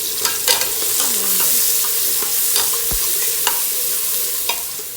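Ginger dropped into onions already frying in oil, sizzling steadily and close, with stirring clatter and brief utensil knocks throughout; no one speaks.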